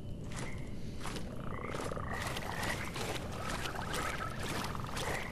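A giant frog in Mortal Shell croaks in a deep, repeating rhythm over a dense, constant background of game ambience, close and without voices.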